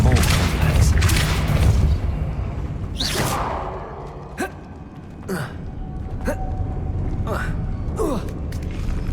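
Depulso force-push spell cast in Hogwarts Legacy: several whooshing blasts with sharp rising swishes at intervals, after a rumbling magical opening, against a steady game ambience.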